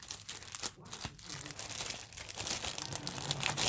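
Plastic packaging of a Stamperia stencil being opened by hand, close crinkling and tearing with a few sharper crackles, fairly quiet and continuous.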